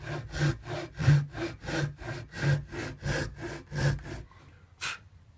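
A hand saw cuts slots into a wooden heel block for a Spanish guitar, giving about ten even, rhythmic rasping strokes up close, a pause, then one last short stroke.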